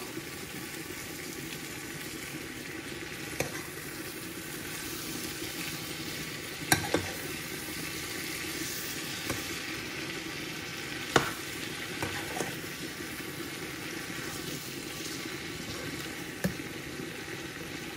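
A spoon stirs a curry of green beans and shrimp in a pan, with a steady low sizzle and occasional scrapes and clinks against the pan over about eighteen seconds.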